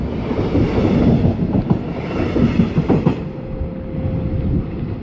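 A regional express train rumbles into Neumünster station, Germany, with rattling wheels and clacking over the rails, ending in a faint sustained squeal as it slows.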